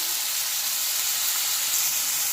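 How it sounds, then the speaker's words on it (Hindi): Chicken cubes with chopped vegetables and salt frying in a pan, giving a steady, even sizzle that runs unbroken at moderate level with no voices. "अब इसको हम तब तक भूनेंगे जब तक कि इसका जो कलर है वो वाइट नहीं हो जाता"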